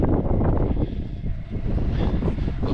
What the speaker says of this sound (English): Not bothering with the awning because it's a bit windy, as you can probably tell.